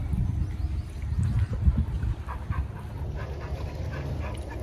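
A dog pants nearby, quick breathy rhythm with faint whimpers under a low rumbling background; no one speaks.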